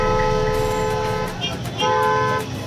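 A vehicle horn honks from behind in traffic, a sustained loud toot held for over a second, briefly breaking off and then sounding again, close and prominent.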